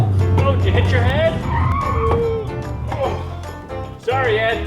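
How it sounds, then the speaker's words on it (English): A car brakes hard on a rough road and its tires skid briefly, with squealing tones rising and falling against an engine rumble while people talk inside the cabin. "Sorry, Ed, had to slam the brakes."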